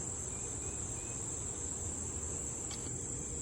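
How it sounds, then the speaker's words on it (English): Crickets chirp in a dense, continuous high-pitched drone outdoors near a bridge on a hike, steady and unbroken with faint background noise. "There are bugs galore out here."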